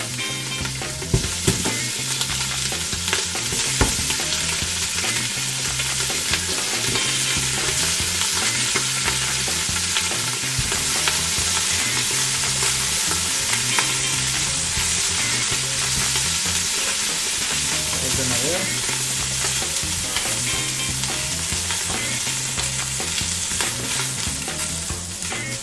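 Oxtail meat sizzles and fries vigorously in butter and olive oil in a pan, a loud steady crackle with occasional stirring clatter throughout, no voices.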